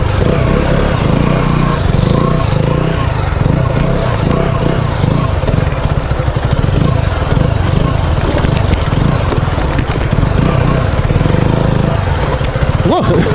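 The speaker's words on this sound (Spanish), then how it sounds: "¿Cómo patina la rueda de atrás, oye?" A KTM 125 Duke motorcycle ridden off-road as its rear wheel spins and slips, the engine droning loud and close for the whole stretch with a rough, pulsing rise near the end, voices faintly mixed in.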